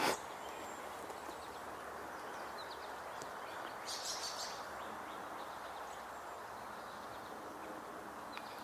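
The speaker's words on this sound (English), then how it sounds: "Looks like a goldfinch." A goldfinch calling outdoors in summer, faint and distant: a few brief high chirps, clustered mid-way, over a soft steady background hiss, with no voices.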